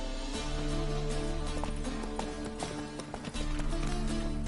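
A horse gallops in The Witcher 3: Wild Hunt, a steady run of hoof clip-clops under a sustained, tonal backdrop of game music and ambience. No one speaks.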